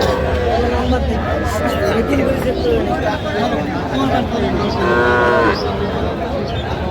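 A bull calf at a busy village cattle market moos loudly and close by, with a drawn-out call near the end. Crowd chatter and other livestock noise run steadily underneath.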